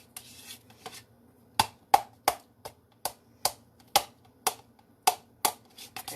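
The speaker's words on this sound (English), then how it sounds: "And it's wanting to cling to the spoon instead of stir" A spoon works through thick cornbread batter in a bowl, giving a dozen or so sharp, dry clicks and taps at an uneven rhythm against a quiet background.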